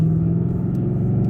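A 2017 Ford Mustang GT with a manual gearbox gives off a loud, steady low engine rumble, heard up close and alone without any sharp rise in revs.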